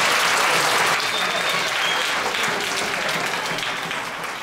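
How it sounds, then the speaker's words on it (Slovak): Loud, sustained applause from an audience at a Christmas charity event for seniors and families, a dense wall of clapping that fades only slightly over several seconds. "Jeden veľký potlesk"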